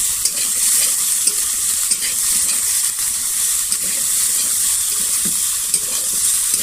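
Potatoes frying and being stirred in a pan for a banana blossom dish: a steady bright sizzle with soft scraping stirs repeating throughout, close and fairly loud, no talking.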